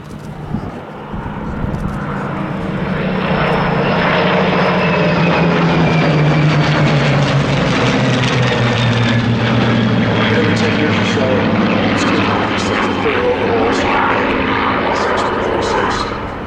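Second World War propeller fighters, a Sea Hurricane, a Seafire and a Spitfire, roar past at a naval air show, their engine drone swelling loud and steady, then sweeping and fading slightly, with spoken commentary underneath.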